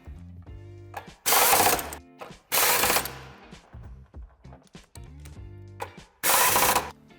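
Screws are driven back into the crossmember mounting points of an Audi Q with a power tool, giving three loud bursts of whirring, each about half a second long, separated by quieter clicks and handling sounds.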